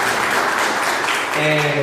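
A church congregation applauds during a gratitude testimony service, dense clapping with a voice talking over it, turning to a sustained sung or spoken tone near the end.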